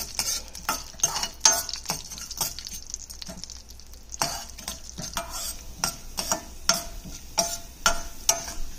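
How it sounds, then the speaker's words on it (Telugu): Ingredients for cabbage pachadi roast in a pan while being stirred, making a rhythmic run of scraping strokes over a soft, constant sizzle. "ఇది బాగా వేపుకుందాము."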